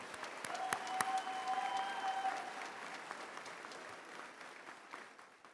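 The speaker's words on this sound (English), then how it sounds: "Let's give them a round of applause." Audience applause at a career and technical center graduation ceremony, a dense burst of clapping that swells early then gradually fades, heard from within a large hall.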